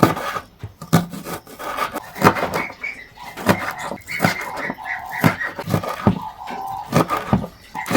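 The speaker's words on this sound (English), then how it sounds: "I'll chop my onions and coriander." Onions and coriander chopped with a knife on a board, giving close, irregular knocks and cuts that come alone at a steady working pace.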